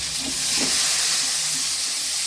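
Onion, garlic and tomatoes sauté in a pan for a drumstick-leaf sambar, giving a steady close hiss and sizzle broken by a couple of soft stirring scrapes, with no voices.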